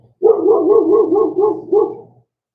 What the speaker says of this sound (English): if the dog, my neighbor's dog, is too loud